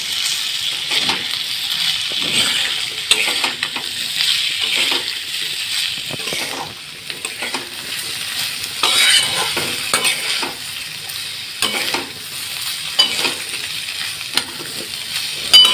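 Meat curry with spices being stirred in a pan during home Bengali cooking: repeated scraping strokes of a spoon against the pan over a continuous sizzle, with occasional light metallic clinks, close and fairly loud.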